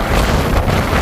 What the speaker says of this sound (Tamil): காற்று பயங்கரமான காற்று தள்ளுது பாருங்க